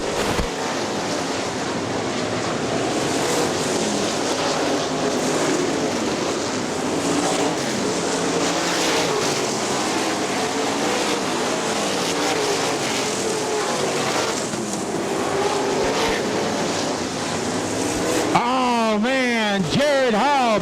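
Outlaw super sprint cars race at a dirt track, a continuous loud engine roar with a commentator talking over it and a sharp pitch-sweeping engine pass near the end.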